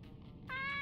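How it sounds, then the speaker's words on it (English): Cat meowing in a video game, a single short, clear meow rising sharply at the end after a brief murmur of background game sound. "Kitty again! Kitty cat."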